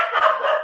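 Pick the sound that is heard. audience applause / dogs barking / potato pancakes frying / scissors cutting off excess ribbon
dogs barking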